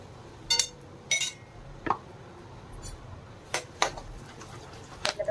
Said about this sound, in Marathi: आपण खोबरं भाजून वाटून घेतलेलं आहे ते ऍड करतो आता